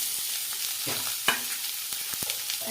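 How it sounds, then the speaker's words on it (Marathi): Onion stirred into hot oil with fried garlic and cumin in a pan gives a soft, steady sizzle, with a few scraping stir clicks and taps close by and no talking. "आता लसूण चांगला फ्राय झाला त्याच्यामध्ये आपण आता लगेच कांदा टाकून घेतो"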